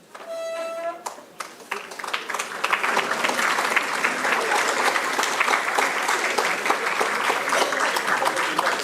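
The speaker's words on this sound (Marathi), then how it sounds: "चालतील अजून थोड्या टाळ्या" Audience clapping at a lecture-series honouring ceremony, a brief voice at first, then applause swelling into sustained dense clapping from a large crowd that holds loud and even to the end.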